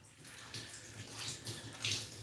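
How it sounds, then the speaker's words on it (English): Water squeezed by hand from a wet doodle's coat during a bath, with a close, continuous splashing and dripping stream that rises in a few soft surges, no talking. "Wring out some of that extra water."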